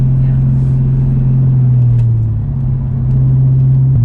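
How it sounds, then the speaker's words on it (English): A manual transmission car pulls away from a stop, with a steady low engine drone that dips briefly mid-way before climbing again, heard from inside the cabin. "I'm going to accelerate, and we're not going to do the bucking thing."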